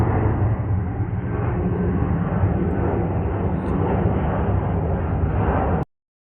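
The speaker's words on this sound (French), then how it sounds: "Encore un énorme avion qui nous surplombe." A loud, broad roar of a large airplane passing low overhead in eastern Brussels, sustained and rumbling throughout before stopping suddenly.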